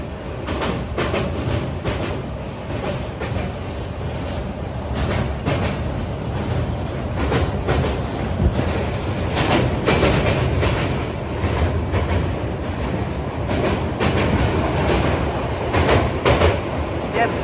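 A train passes on a Kerala line, heard from a moving carriage with a continuous loud rumble and rhythmic clickety-clack of the wheels. It sounds close and steady throughout, with faint voices underneath.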